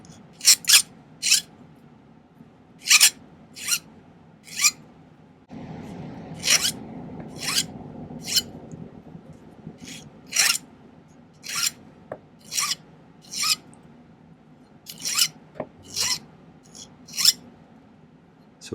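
A file rasps in short repeated strokes along the edge of a small craft earring, each stroke a crisp scrape. The strokes come in uneven bursts with brief pauses, close up and clear.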